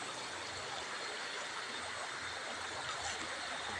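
River water flowing in a steady, unbroken rush, a soft, even wash of broadband noise that holds at a constant low level with no voices over it.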